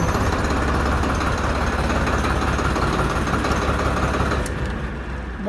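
A Farmtrac 60 tractor engine running at slow throttle, a steady low rumbling chug close by that fades and drops off near the end.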